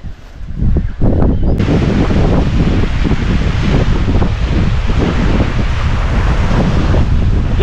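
Strong wind buffets the microphone on the Australian coast as stormy weather rolls in over the ocean, a loud continuous roar with surf churning underneath and no voices.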